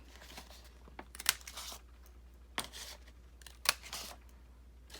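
Scissors snip through pieces of fabric cut from a dress. Three distinct close cuts come at an unhurried pace against a quiet background, with faint rustling of cloth between them.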